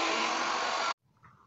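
A Chovery window-cleaning robot runs on a window with a steady, loud motor whine that cuts off sharply after about a second, followed by faint quiet.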